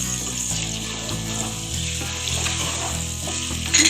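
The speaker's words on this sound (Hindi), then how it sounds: "इसको अच्छे से मसाले को सब भून लेंगे। और इसमें अब मैं टमाटर डाल दूंगी।" Crushed chillies, spices and tomatoes sizzle and fry steadily in a pan for kaleji, a continuous loud crackle with a brief clatter of stirring at the end.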